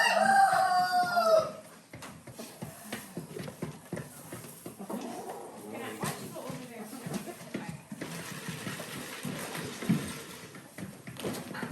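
A rooster crows loudly at the start, then hens cluck and scratch around nearby amid shuffling movement and scattered talk.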